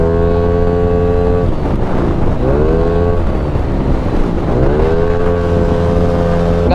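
A motorcycle rides along Molino Boulevard, its engine loud and continuous throughout, with the pitch sweeping up and down through two clear rev cycles as it accelerates and shifts.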